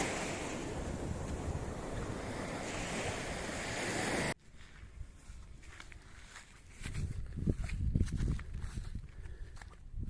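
Sea surf breaking on a littered beach in Albania, a steady broadband wash of waves with wind that cuts off abruptly partway, followed by quieter shoreline ambience and nearby footsteps or rustling.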